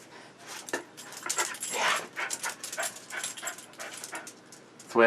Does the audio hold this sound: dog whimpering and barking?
yes